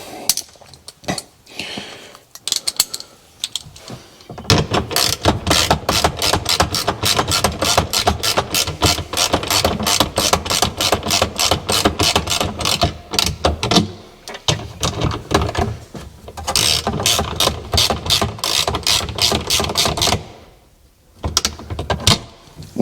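A ratchet on an extension tightening windshield bolts on a Can-Am Maverick X3, a long run of rapid, loud clicking bursts with short pauses, heard close and without talk.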